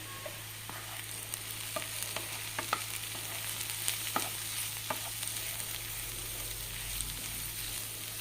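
Kashmiri chilli powder and chicken masala powder sautéing in oil for an egg curry, giving a steady soft sizzle with scattered scrapes and taps of a spoon stirring the pan throughout.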